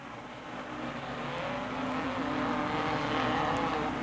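Off-road racing machines at Raven Raceway, 1987, three-wheelers, quads and motorcycles, round a wide turn into the hairpins, a steady blended engine drone from several vehicles at mid distance that swells slightly as they approach.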